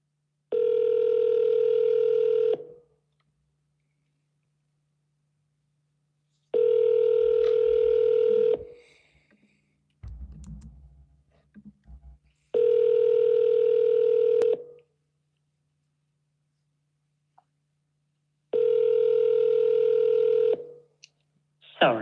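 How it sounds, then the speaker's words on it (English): Outgoing phone call ringback on a telephone, four evenly spaced two-second ring tones separated by silence, with a few faint handling noises between them. "Let me call Abriana one more time."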